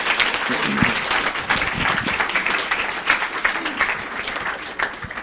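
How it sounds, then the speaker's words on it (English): A school board meeting audience applauds its school tennis program with dense, sustained clapping that fills the room for several seconds, a few voices mixed faintly into the wash. "how about a nice round of applause for our tennis program?"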